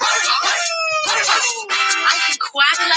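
A singing voice mimics a dog's barking in a children's song, a quick series of yappy, tuneful barks over musical accompaniment, close and loud.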